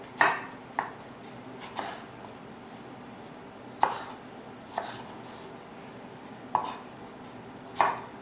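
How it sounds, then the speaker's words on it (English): A strawberry sliced with a knife on a cutting board: a series of about eight crisp, separate knife taps at an irregular, unhurried pace, close and clear over a quiet kitchen background, no voices. "So first of all, I'm gonna cut the strawberry"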